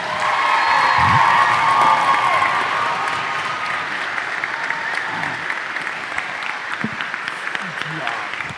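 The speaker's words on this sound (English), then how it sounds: "give these guys one more big round of applause" A large audience gives a high school band sustained applause and cheering after an all-conference band performance in a school venue, a dense steady wash of clapping that fades slightly over time, with some shouts mixed in.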